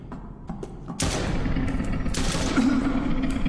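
Gunshots ring out in a bodycam-style horror video game: a few scattered sharp cracks first, then a loud sustained burst of rapid automatic fire with rumbling echoes, close and harsh.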